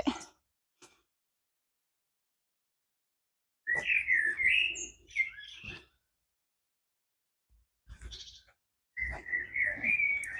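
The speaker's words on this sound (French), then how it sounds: "On entend les petits oiseaux." Small birds chirp in short, bright bursts of trilling calls, separated by stretches of silence.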